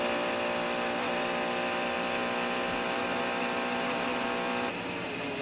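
A Mercedes-Benz CLR race car at Le Mans slows hard into a left-hand corner, a loud, sustained engine whine with steady harmonic tones, dropping slightly toward the end.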